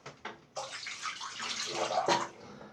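Cold water runs from a tap into a basin during a wet shave with a Parker SRX shavette razor, a steady close splashing rush that swells louder midway and then eases, with no talking.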